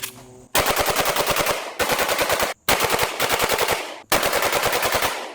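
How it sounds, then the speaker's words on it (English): Glock 19 Gen 5 MOS pistol bump fired in rapid bursts, four strings of fast, loud, closely spaced shots separated by brief pauses. "non-traditional forms of firing, such as shooting from the hip, bump firing, USP, bump fire"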